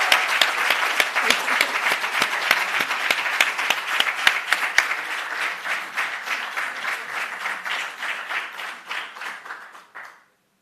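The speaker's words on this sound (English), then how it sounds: "And I'm going to ask, ladies and gentlemen, a round of applause, Professor Thorpe to join us on stage," An audience at an educators' training awards ceremony breaks into lively applause that holds steady, thins out and stops abruptly, leaving silence.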